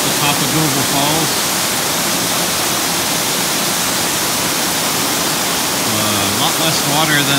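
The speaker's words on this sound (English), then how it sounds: "This is the top of Goble Falls." The waterfall at the top of Goble Falls on Goble Creek, running with less water than usual, roars with a loud, steady rush of falling water; a voice speaks briefly near the start and again near the end.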